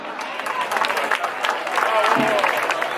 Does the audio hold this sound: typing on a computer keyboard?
no